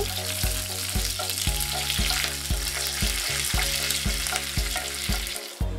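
Black mustard seeds and curry leaves fry in hot oil for a South Indian sambar tempering, a loud steady sizzle broken by sharp seed pops and crackles at an irregular pace, close and without talk.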